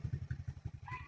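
A motorcycle engine, just started by a two-year-old pressing the push button, runs close by in a quick, lumpy idle, its low exhaust pulses thudding rapidly and unevenly with no voices.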